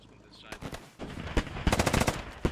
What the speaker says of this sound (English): Thirty millimeter trying to shoot into the compound through the walls.